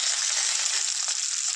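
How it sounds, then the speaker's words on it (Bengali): Boiled potatoes fry in hot oil with a steady, close, hissing sizzle that holds evenly throughout, with no voices over it. "নিচ্ছি প্রথমে আলুটা আমি ভেজে নিচ্ছি"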